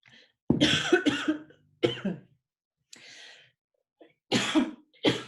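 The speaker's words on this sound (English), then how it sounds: "Sorry, I'm coughing water" A person coughs after choking on water: a close fit of harsh, wet coughs in several bursts separated by short pauses, with a softer breathy sound in the middle.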